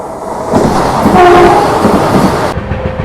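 The Brahmaputra Mail train rumbles loudly past close by, wheels clattering, with a short horn tone sounding partway through before the noise suddenly drops.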